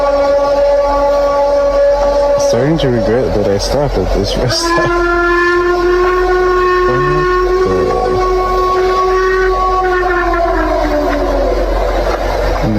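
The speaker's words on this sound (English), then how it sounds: "The volume of this bellow is striking." A loud, long, wavering bellow from the woods beside a Texas rest area, rising and sliding in pitch with a siren-like tone over steady background rumble, while a person speaks briefly over it.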